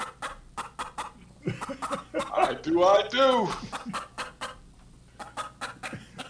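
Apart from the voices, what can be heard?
played chicken clucking sound effect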